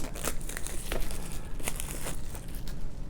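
Plastic shrink wrap is peeled off a 4K Blu-ray case, a close, steady crinkling and crackling with sharp tearing snaps scattered through the few seconds.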